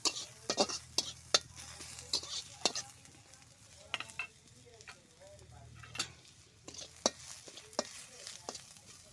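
Onions with ginger garlic paste fry in a hot pan, a soft sizzle broken by repeated sharp clicks and scrapes of a spoon stirring against the pan, fairly close and quiet.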